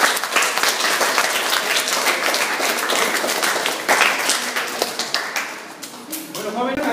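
Sustained applause fills the room at the inauguration of a photo exhibition on Afro-Mexican peoples in Pinotepa Nacional. Dense, steady clapping continues for several seconds before thinning out as a voice begins near the end.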